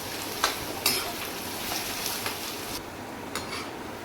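Potatoes fry in hot oil in a pan over high gas, a loud steady sizzle and hiss with a few scrapes and clinks of a spatula stirring.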